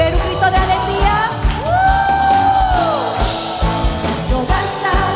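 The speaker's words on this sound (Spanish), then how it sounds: "A ver, un grito de alegría." A church congregation at a worship service shouts and whoops for joy, a loud mass of crowd voices with one long rising and falling whoop above it.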